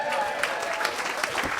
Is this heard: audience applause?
yes